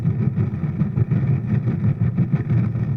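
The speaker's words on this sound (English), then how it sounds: "We will continue on the main engines up at full power" Rocket main engines roaring at full power in Kerbal Space Program, a steady, dense low rumble that holds for the whole stretch with no talk.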